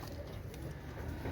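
A pair of golden pigeons cooing, soft low burbling calls close by over a steady muffled background rumble, no talk.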